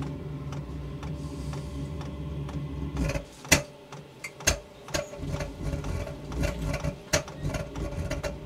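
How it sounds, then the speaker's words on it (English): A quiet mechanical whir with rapid ticking pulses from an 8kW Chinese diesel heater's fuel pump, joined by irregular louder clicks and a low rumbling burner, close by in a greenhouse, sounding unhealthy, without speech. "you can hear the pump going faster. I can hear the burner come on"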